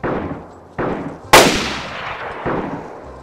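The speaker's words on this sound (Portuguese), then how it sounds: "Eu gosto desses tiros aqui" Gunshots in the video game DayZ: four sharp, loud single reports spaced about a second apart, each with a decaying tail, the third the loudest and brightest, with no talking.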